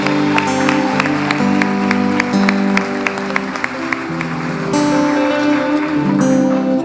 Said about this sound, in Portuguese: Forte esse aplauso ao Senhor Jesus.